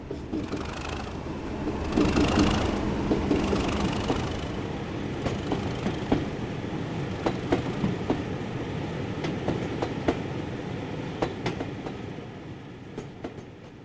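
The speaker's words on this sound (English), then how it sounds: "37798 is seen passing over the foot crossing with a train bound for Wellow." A Class 20 diesel locomotive hauls a train past over a foot crossing at moderate distance with a deep engine rumble, followed by a steady rhythmic clickety-clack of wheels over rail joints.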